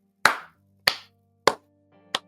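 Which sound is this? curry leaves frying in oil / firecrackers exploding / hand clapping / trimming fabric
hand clapping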